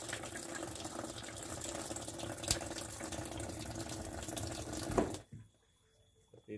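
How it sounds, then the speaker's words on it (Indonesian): Water gushes steadily and strongly from a tap into an AQUA QW-881XT twin-tub washing machine, a loud continuous rush that stops abruptly near the end, leaving near silence. "Airnya mengalir seperti itu, kencang sekali airnya."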